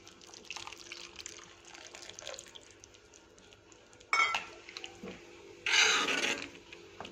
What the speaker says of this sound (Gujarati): થોડું આપણે હજુ પાણી એડ કરીશું આમાં